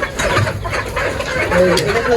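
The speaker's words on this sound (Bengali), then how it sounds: "আর এপাশে আছে গলা ছোলা হাইব্রিড মুরগি" Naked-neck hybrid chickens clucking and murmuring close by in a steady flock din at a poultry farm in Manikganj, Bangladesh, with a noisy, busy background throughout.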